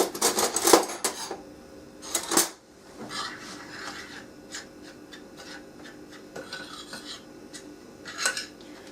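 Metal cutlery scrapes and clinks against a bowl while meatball mix for Florentine meatballs is stirred through, in quiet bursts with short pauses between, close up and with no voices.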